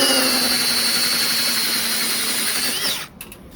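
A stepped drill bit from a Spectral 29-piece set drills through a clamped workpiece, the power drill whining loud and steady close by before spinning down and stopping near the end.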